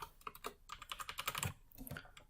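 Rapid, quiet clicking of keys on a computer keyboard while code is entered, irregular close taps in quick succession with no talk.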